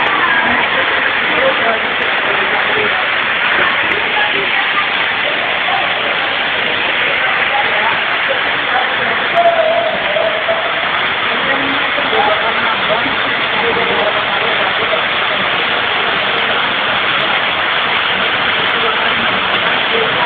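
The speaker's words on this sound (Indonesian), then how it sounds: "Ini adalah air terjun yang ada di dalam gua." A waterfall pours inside a cave in Kebumen, Indonesia, into a small lake, a loud continuous rushing roar that fills the space steadily throughout.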